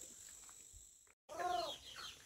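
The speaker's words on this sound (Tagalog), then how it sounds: "Lahat yan ay ano, native chicken." Native chickens on a farm cluck softly nearby, a short run of throaty clucks after a brief silence, with faint background hiss.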